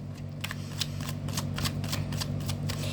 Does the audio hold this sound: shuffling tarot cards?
yes